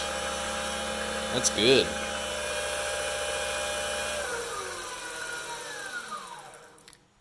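A PM-728VT milling machine spindle runs at full speed, around 4300 RPM, with a steady high whine and hum, then winds down with falling pitch to a stop. A voice speaks briefly early on.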